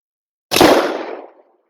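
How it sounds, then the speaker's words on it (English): A single sharp rifle shot from a .25-06 Remington fired over a chronograph, a loud close crack with a short decaying tail and no other sound around it. "And one more shot for a fifth round."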